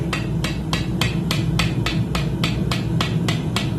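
A hammer taps a metal pipe on an anvil with light, evenly spaced metallic strikes, about three per second, close and clear over a low steady hum.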